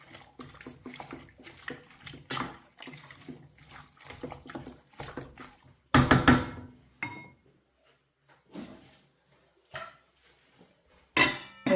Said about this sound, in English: Now stir.